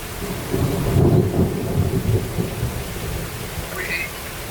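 A thunderstorm on 1 September 2025 in mountainous country brings steady loud rain with a deep rolling rumble of thunder building and fading over several seconds.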